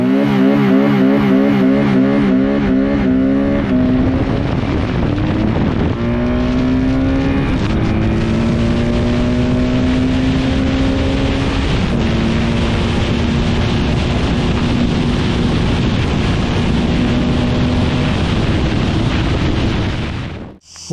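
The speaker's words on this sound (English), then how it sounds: "for sure this is a powerful roadster engine" BMW R12 roadster motorcycle engine running loud and close, revving through several rising and falling pitch sweeps before settling into a sustained drone and cutting off at the end.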